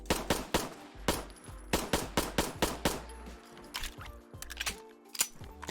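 An HK USP pistol fires in a Fallout 4 mod, with rapid sharp shots in quick bursts followed by the clicks and clacks of a reload, crisp and close with no talking.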